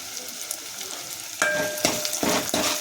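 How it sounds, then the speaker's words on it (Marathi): Onion and fresh coconut roasting in a pan while being stirred, giving a steady sizzle with louder scraping stir strokes toward the end, close and alone. "आता हे चांगलं भाजून घ्यायचं लालचर होईपर्यंत कांदा"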